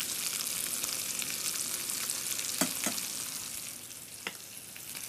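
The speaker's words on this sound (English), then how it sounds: "We're going to add a little more oil to the pan." Oil sizzles and crackles steadily in a hot pan while cooking ribeye and potatoes, with a few sharper pops and clinks of utensils standing out above the continuous frying hiss.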